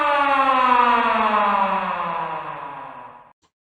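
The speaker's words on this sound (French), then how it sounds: "C'est quoi ce bruit? Encore cette sirène?" A loud, sustained siren wail with rich harmonics holds steady, then slowly sinks in pitch and fades out near the end.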